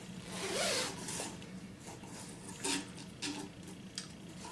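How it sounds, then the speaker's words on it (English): A zipper on a bag with handles, a small inside pocket and two mesh pockets is pulled open or closed in one long near rasp, followed by a few short scratchy zip strokes and light handling clicks. "it's a zipper"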